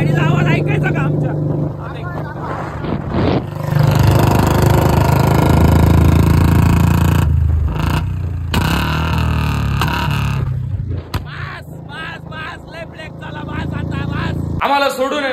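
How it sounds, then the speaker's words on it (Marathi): A car engine runs with a loud, steady rumbling drone throughout while people talk over it. "गाडीचा आवाज ऐकायचा का आमच्या."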